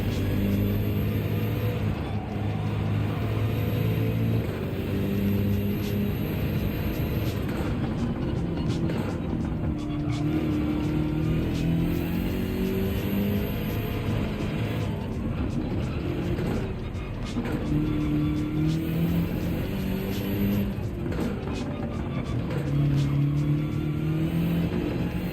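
Race car engine in Gran Turismo 7 driving a full circuit lap, a steady loud drone that rises and falls through gear changes and corners without pause.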